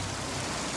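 Heavy rain in a crime radio play: a dense, steady wash of downpour noise that fills the short moment on its own, with no voices.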